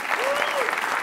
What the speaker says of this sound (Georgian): აპლოდისმენტები შევეგებოთ და მივესალმოთ.